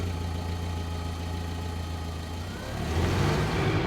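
A cartoon car's engine idling steadily up close, then revving louder toward the end as the drawn car drives off.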